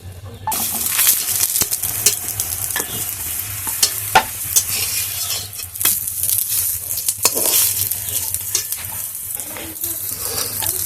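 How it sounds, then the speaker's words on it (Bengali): Potato and flour snacks fry in hot oil in a wok over a wood fire, a loud continuous sizzle broken by frequent stirring scrapes and clinks, heard close with no voices. "একটা করে ভেজে নিচ্ছি"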